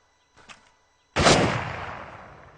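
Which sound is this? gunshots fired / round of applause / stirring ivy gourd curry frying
gunshots fired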